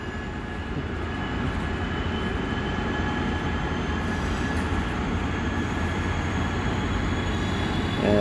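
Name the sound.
Amtrak passenger train pulling out of the station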